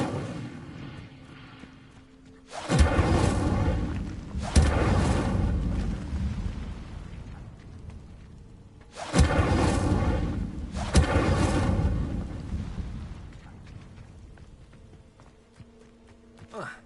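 Hogwarts Legacy's Incendio fire spell is cast twice in a row. Each cast bursts out as a sudden loud whoosh and a roaring flame blast, and each one falls away into a long, fading rumble.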